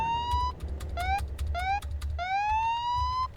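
Police car siren in a driving video game, a wailing electronic tone that rises in short repeated sweeps and then one long climb, loud and close over a low engine rumble.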